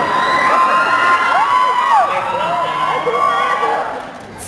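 A large concert crowd screams and cheers continuously, with high wavering shrieks rising and falling over a dense roar, loud and sustained.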